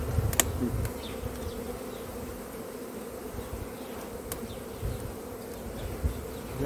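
A dense, continuous buzz of many bees swarming nearby, with occasional louder passes close by and faint clicks.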